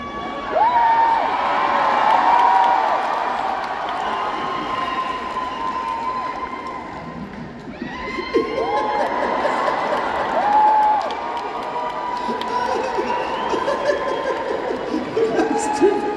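An audience at a live comedy show in Cleveland applauds and cheers in loud, sustained waves, with laughter and chatter mixed in, while a performer talks over the crowd.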